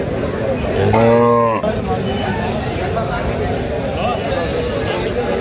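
Cattle at a busy livestock market selling dairy cows and calves, with one loud, close moo standing out over a steady crowd hubbub of chatter and market noise.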